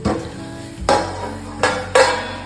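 Onions frying for stuffed bitter gourd, with a steady sizzle in the pan broken by four sharp scraping stirs of a utensil at roughly even intervals, close and fairly loud, no talking.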